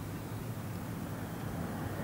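Steady broad roar of jet engines as the presidential aircraft of US President Jimmy Carter arrives at Riyadh in 1978, heard from a distance as a continuous rumble.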